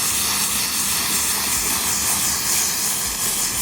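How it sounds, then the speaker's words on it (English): Continuous, broad rushing hiss of water spraying through a K&N air filter from the clean side out at close range, steady and loud throughout with no pauses. "Want to spray from the clean side out."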